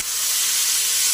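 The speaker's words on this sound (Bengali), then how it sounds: "কাঁচা লঙ্কা দিয়ে ভাজা ভাজা করে এবার জল দিই" Water poured into a pan of frying fish-curry masala of onion, green chilli, chilli powder, turmeric and salt bursts into a loud, steady steamy hiss and sizzle, close up, with no talking.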